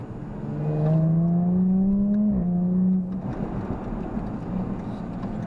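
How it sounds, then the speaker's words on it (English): Jaguar F-Type 400 Sport convertible's exhaust on a winding road: a loud, close engine note climbs steadily as it revs, dips briefly, then settles into a lower, rougher drone with no one talking. "we can hear again this gorgeous sound and the crackles coming out of the exhaust"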